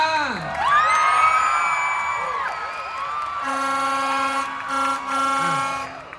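A crowd at a Miss Grand Thailand 2022 pageant event screams and cheers loudly, high-pitched shrieks sustained for several seconds before easing off near the end.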